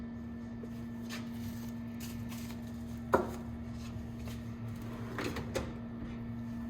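A workshop drawer holding shock bladder kit inventory slides and knocks a few times, short wooden-metal clunks over a steady electrical hum, with no voices.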